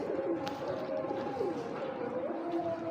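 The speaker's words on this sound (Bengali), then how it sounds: "এটা একটা বিদেশি কবুতর" Soft cooing of an imported foreign fancy pigeon in low murmuring phrases, steady and moderately close, with faint background chatter throughout.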